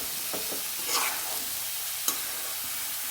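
A spoon stirs ridge gourd curry in a pan under a soft sizzle, with a few scraping strokes and a sharp clack near the end.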